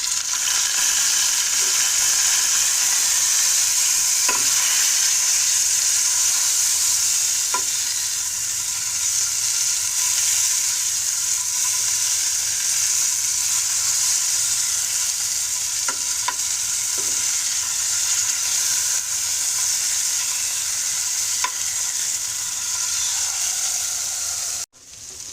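A turmeric-coated fish head fries in hot oil with a steady, bright sizzle that fills the whole stretch, broken by a few light stirring clinks and scrapes, close and continuous, with no voices.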